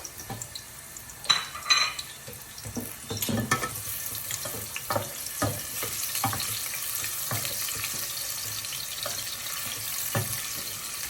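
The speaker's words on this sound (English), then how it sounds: "we're going to put some garlic and some onion into the oil. Give that a good mix." Garlic and onion fry in a pan of oil and get stirred, a steady sizzle with scattered scraping clicks and clatters from the stirring, close and alone with no talking.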